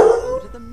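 One short, deep bark from a dog in the video game My Time at Portia, close and loud, fading quickly with nothing else around it.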